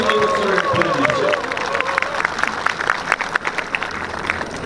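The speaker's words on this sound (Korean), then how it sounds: "여러분 최승재 국회의원께 큰 소리 박수를 보내주십시오" A crowd applauds at a press conference protesting the failed delay of the Serious Accidents Punishment Act for small workplaces, loud clapping with some cheering, while a voice speaks over the start.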